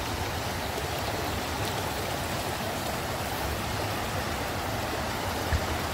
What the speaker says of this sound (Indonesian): sepanjang jalan ini banyak nih sungai-sungai, aliran-aliran sungai kecil seperti ini nih yang bersih-bersih nih